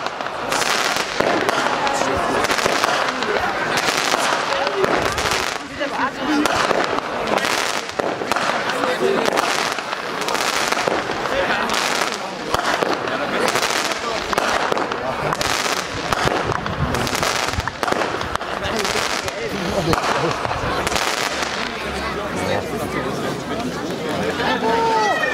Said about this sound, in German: Crackling Finale, 13 Schuss, eine Premium-Effekt-Batterie mit großkalibrigem Crackling-Abschüssen.